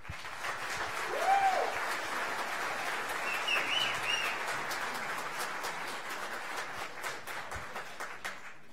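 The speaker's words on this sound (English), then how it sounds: "So let's give a round of applause to our musicians." Audience at a fall band concert applauds the band musicians with sustained, dense clapping filling the room, steady throughout and easing slightly at the end, with a faint whistle or voice briefly riding on top.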